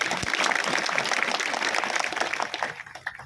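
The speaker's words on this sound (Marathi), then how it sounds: "एकदा जोरदार टाळी वाजव" An audience at a Shiv Katha kirtan festival in Majalgaon breaks into loud, dense applause that holds steady for a few seconds, then thins out and fades to a few scattered claps.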